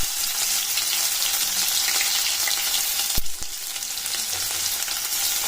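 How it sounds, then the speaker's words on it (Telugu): Cumin and thinly sliced onions fry in hot oil in a kadai, a constant bright sizzle with a brief scrape and clatter of stirring partway through. "ఆయిల్ హీట్ అయిన తర్వాత కొద్దిగా జీలకర్ర, ఆ తర్వాత మనం సన్నగా కట్ చేసి పెట్టుకున్న ఆనియన్ ముక్కలు వేసుకోవాలి."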